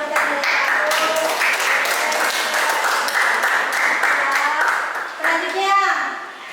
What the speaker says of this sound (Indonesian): Kita kasih tepuk tangan dulu untuk Rival yang sudah mendapatkan nilai 1.